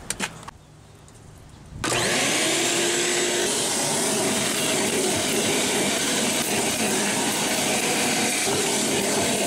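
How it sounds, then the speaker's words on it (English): A vacuum cleaner starts up after a few faint clicks and runs with a loud, steady, close whine while cleaning out the interior of a Jeep Cherokee XJ. "So the first thing we're going to do is, I'm vacuuming this mess out."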